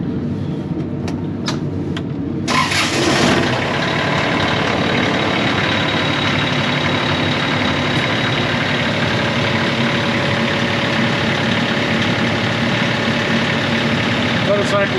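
A Kioti CS252 compact tractor engine, just refilled with fresh oil, cranks briefly and catches, then settles into a steady, loud, even idle that runs unbroken for the rest of the stretch.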